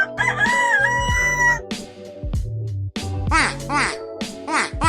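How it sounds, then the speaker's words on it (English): A rooster crows several times in loud, drawn-out cock-a-doodle-doo calls, close and clear, with bright harmonic swoops over other barnyard fowl sounds and no talking. "It's a rooster."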